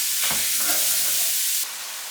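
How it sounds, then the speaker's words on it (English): Pound of sausage browning in a pan, a loud steady hiss of sizzling fat with a couple of brief stirring scrapes, the frying noise continuing throughout without talk. "our sausage is pretty much browned up"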